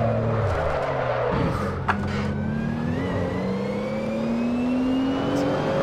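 A GT3 race car engine in Assetto Corsa on the Nordschleife tourist layout climbs through gear shifts, dipping then revving steadily higher, loud and close with one brief click partway through.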